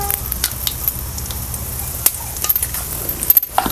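Whole spices (black and green cardamom, cloves, cinnamon and peppercorns) sizzle loudly and steadily in hot oil for a village-style egg curry, with scattered sharp pops and crackles rising toward the end.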